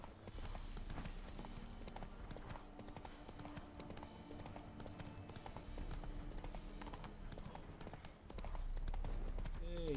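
Horse hooves clip-clop in a steady galloping rhythm in The Witcher 3: Wild Hunt, with game ambience beneath and faint voices talking over it.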